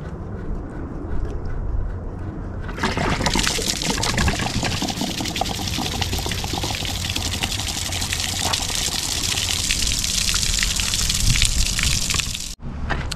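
Water gushes from an Airstream trailer's water heater drain plug in a loud, steady rush after a brief quieter start, pouring continuously before cutting off abruptly near the end.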